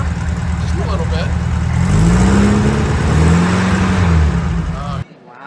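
A classic VW Beetle engine runs with light throttle blips, its low steady drone swelling and easing in two gentle rises before cutting off abruptly near the end.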